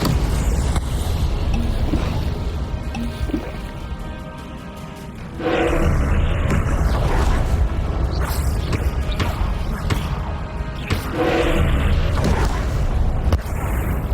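An Incendio fire spell cast during combat in Hogwarts Legacy: loud roaring, booming bursts of magic layered over dense, continuous game effects and music, briefly dipping before surging again.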